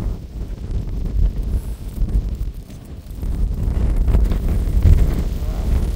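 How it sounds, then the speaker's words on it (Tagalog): Strong wind buffets the microphone in a continuous low roar that swells and gusts on a snowy slope in Australia, with no voices. "kusog kayong hangin"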